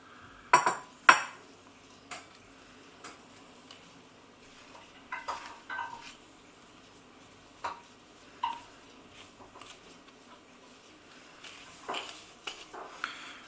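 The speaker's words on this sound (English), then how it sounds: "We're mixing fairly gently. We're not beating the mixture as such." Shortcake biscuit mixture in a bowl has flour gently folded and pressed in with a spatula, giving soft scrapes and a few sharper clinks against the bowl at irregular intervals, close and fairly quiet, with no voices.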